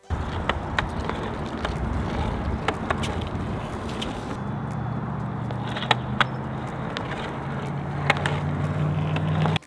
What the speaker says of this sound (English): take my back foot, my other foot, and push with it